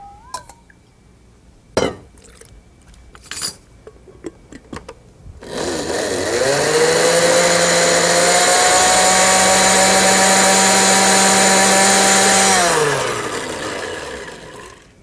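A kitchen blender grinds an Indian masala paste with water, starting abruptly after a few knocks and clatters and running as a loud, steady whirring drone for about seven seconds before winding down.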